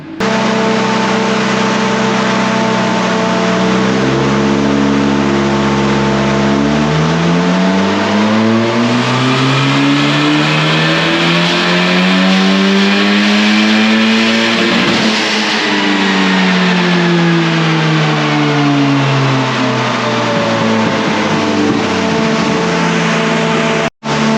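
Supercharged Nissan K11 Micra engine revving hard during runs, pitch sweeping up and down through the rev range in loud, close, sustained pulls with no speech.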